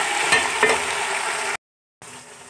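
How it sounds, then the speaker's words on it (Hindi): Chicken fries in a pan with a steady, fairly loud sizzle, broken by a couple of light stirring knocks. The sound then cuts out completely for a moment before the frying resumes more softly. "चिकन का कलर चेंज होने तक फ्राई कर लें"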